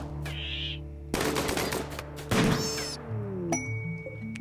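Sniper rifle fire against a rat in the colony-building video game RimWorld: a sharp crack followed by a second loud shot, set among game music tones and chimes.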